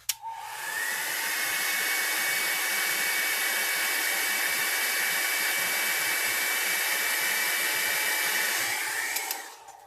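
A heat tool drying alcohol ink on micro brush flower centers blows a loud, steady, rushing hum close to the microphone, starting abruptly and cutting off after about nine seconds, with no voices.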